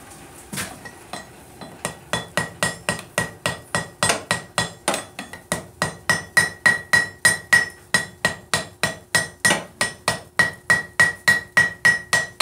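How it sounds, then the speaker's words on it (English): Hot steel struck with a hammer to forge-weld the end of a ball screw for a vice. Loud, steady blows ring out close by, speeding into a fast even rhythm of roughly thirty strikes with no talk. "this is hot, now we're going to weld the end"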